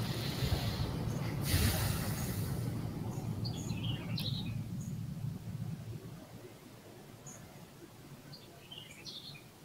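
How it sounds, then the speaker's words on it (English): Birds chirping outdoors, faint scattered high tweets over a steady background hiss and low rumble that fades partway through. "There's birds."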